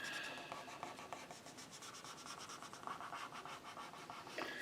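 Q-tip rubbing back and forth across a paper coloring page, a steady close scratchy scrubbing with quick repeated strokes that runs throughout, no talking.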